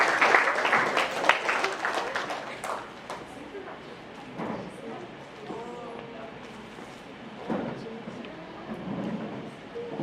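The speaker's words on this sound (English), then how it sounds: "Please give them a round of applause." Audience applause for two exchange teachers from Thailand at a school event opens loud and dense, then thins out as talking takes over.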